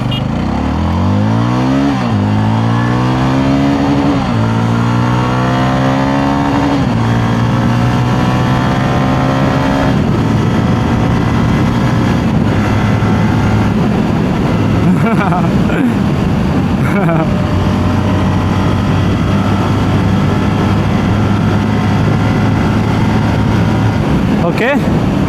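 A 2026 Jawa 42 motorcycle with a four-valve, liquid-cooled DOHC engine rumbles loudly while being ridden, its pitch climbing through each gear and dropping at every shift, then settling into a steady drone.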